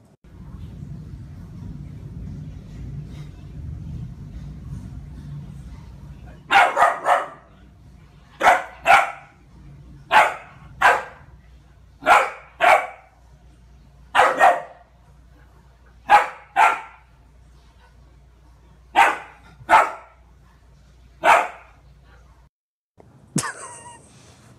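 A dog barks in sharp, spaced single and double barks, about a dozen in a row, loud and close, after a stretch of low hum.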